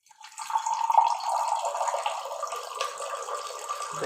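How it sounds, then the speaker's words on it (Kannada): Coconut water runs out of a freshly cracked coconut into a glass, a steady close trickle lasting a few seconds with no talk over it. "ಕಾಯಿ ನೀರು ಬರ್ತಿದೆಯಾ,"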